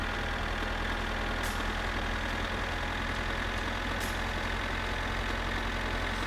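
A tractor engine in the driving game My Summer Car rumbles at a steady idle, loud and continuous, with a couple of faint higher clicks over the drone and no talking.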